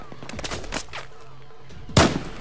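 A single loud gunshot in the video game Battlefield 4 rings out near the end, after a stretch of quieter distant shots and game noise.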